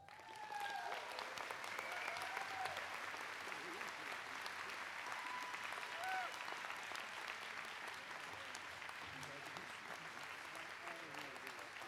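Applause from an audience at a college English department commencement ceremony in 2019 honouring award and certificate winners: sustained clapping that carries on for the whole stretch at a moderate, somewhat distant level.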